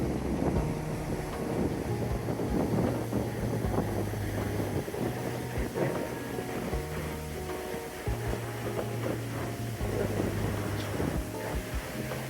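Steady wind blowing during a trek near Dingboche on the Everest base camp route, a continuous broadband rush buffeting the microphone for the whole stretch, with a low rumble underneath.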